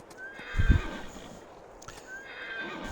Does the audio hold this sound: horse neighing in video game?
yes